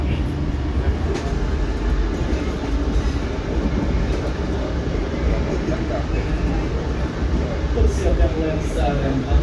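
A ten-car passenger train grinds steadily through the sharp Padalarang curve, its wheels rumbling and clattering over the rails close by, with a faint high squeal near the end and a voice speaking over the noise.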